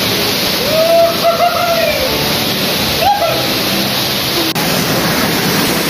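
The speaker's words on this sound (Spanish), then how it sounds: "está cayendo el agua" Broad, steady roar of falling water at the Huasca cascades near Pachuca, Hidalgo, loud and close, continuous throughout with brief faint tonal whistles riding over the rush.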